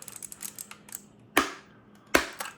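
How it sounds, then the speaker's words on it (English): A plastic palm rest snapping onto a Fantech MaxPower MK853 keyboard: a few light taps and fumbling clicks, then two sharp, loud close-up clicks as it locks into place, with no talk. "There, the palm rest has been clipped on."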